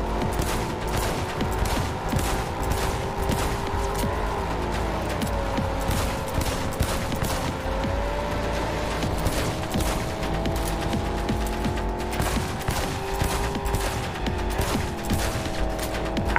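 Gunfire in Cyberpunk 2077 on PS5: a dense, continuous stream of rapid shots and mechanical clatter over a droning engine-like hum, steady and loud with no talking.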